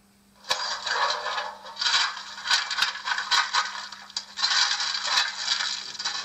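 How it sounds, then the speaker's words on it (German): Coal shoveling from a Märklin 37899 Christmas model steam locomotive with mfx digital sound: repeated gritty scraping scoops with sharp clinks between them, in an uneven rhythm, close and alone. "Unter F10 Kohle schaufeln."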